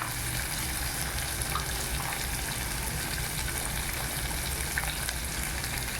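Garlic sautéing in a pan for sundakkai curry gives a steady, close sizzle and hiss that runs evenly throughout without a break.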